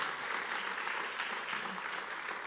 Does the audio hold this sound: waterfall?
no